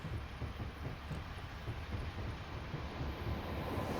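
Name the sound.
Class 105 diesel train passing on the track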